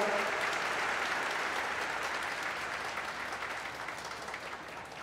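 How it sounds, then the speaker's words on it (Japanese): Spectators at the 38th Rokko Queens Open golf tournament clap for the start of the final round robin, a loud, dense burst of applause that gradually thins and fades. "ご観戦の皆様は拍手をよろしくお願いします"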